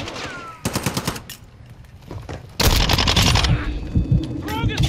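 Automatic rifle fire rattles in bursts during a Call of Duty: Modern Warfare 2 multiplayer match, loud and close, with short quiet gaps and game sounds between volleys.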